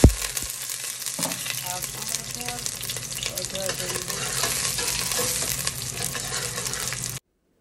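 Whole spices, cinnamon stick, star anise, green cardamom, cloves and black peppercorns, frying in hot oil for curry leaf rice, a steady close sizzle with stirring scrapes throughout, ending abruptly.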